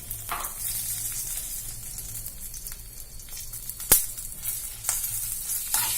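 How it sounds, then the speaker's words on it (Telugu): Dry red chillies fry in a couple of spoons of oil in a pan, giving a steady close sizzle with faint stirring scrapes and one sharp clatter near the middle. "ఇప్పుడు అదే పాన్లో ఇంకొక 2 స్పూన్ల ఆయిల్ వేసుకొని ఎండుమిరపకాయలని వేయించుకుందాం"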